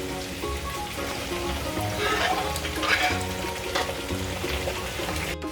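Beef being fried with ginger and garlic in a pot for a beef pulao, with a loud, steady sizzle and crackle and occasional stirring scrapes, close by and continuous without talk.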